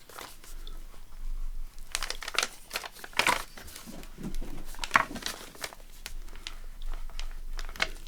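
Paper being creased and smoothed with a bone folder while a wraparound pocket page is made, giving close, soft scraping and crinkling strokes in irregular bursts with no talk.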